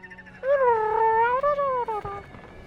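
A cat-owl creature in the video game Brothers: A Tale of Two Sons lets out a single drawn-out, wavering meow lasting nearly two seconds, loud and clear over a quiet background.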